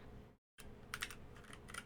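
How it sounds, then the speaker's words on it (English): Computer keyboard typing with a brief dropout of near-silence, then quick clusters of key clicks, close and moderately loud, with no voices. "why am I typing Lloyd?"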